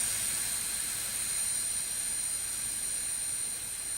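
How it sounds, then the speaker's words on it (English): A simulated MD80 airliner's auxiliary power unit hums steadily from a flight simulator's FMOD soundpack, a constant turbine whine with a high tone and broadband roar, loud and unchanging throughout with no talk. "Listen to that APU, though."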